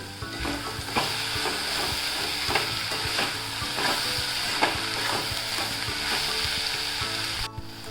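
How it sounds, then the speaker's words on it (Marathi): Dried shrimp (sukat) fry with coriander in a pan, a loud steady sizzle broken by rhythmic spatula strokes scraping the pan about every half second. "आता कोथंबीर टाकते परत हलवून घेते"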